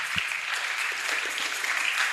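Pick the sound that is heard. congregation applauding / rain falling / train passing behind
congregation applauding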